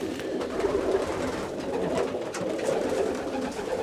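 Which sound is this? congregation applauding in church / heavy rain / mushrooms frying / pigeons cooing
pigeons cooing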